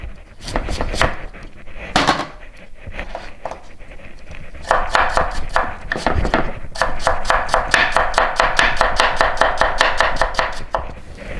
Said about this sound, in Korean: 무 채 썰어 주실 거예요. 무 채 썰고요.